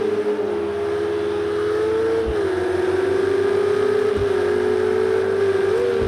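A race car engine under steady throttle in the racing game Project Cars 2 at the Spa circuit, droning loud and continuous with slight pitch shifts, heard close and alone.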